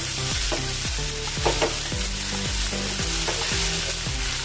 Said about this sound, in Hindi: अभी इसको भून लेंगे मसाले को। थोड़ी देर हमने इसको भून लिया है।